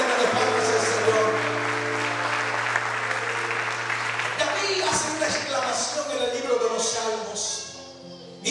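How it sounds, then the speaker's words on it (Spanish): Church congregation clapping as an offering of praise to the Lord, steady sustained applause throughout with a sustained low organ or keyboard tone underneath, and a voice briefly audible near the end. "Esa ofrenda de palmas al Señor."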